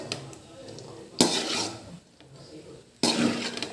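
Potato rice is stirred in a pan, giving two short bursts of metal spoon scraping and clatter against the pan, close and fairly quiet, with soft handling noises between.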